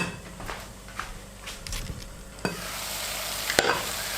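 Tomato puree cooking in a pan with onions, mushrooms, garlic and olives, a soft sizzle under sparse scrapes and clinks of a utensil stirring, close and quiet.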